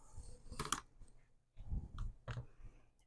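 Scissors snipping through mushroom-print fabric for a sunglasses case: a few short crisp cuts in separate bursts, close and fairly quiet, with small rustles between them.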